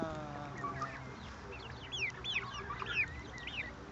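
Quail call outside in their new summer enclosure, a few close, rising and falling chirps over a constant low hum of outdoor background.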